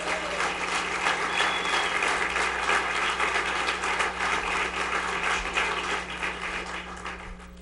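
Audience applause in a city hall setting during a mayor's State of the City address, a steady dense wash of clapping lasting several seconds with a low constant hum beneath, tapering slightly toward the end.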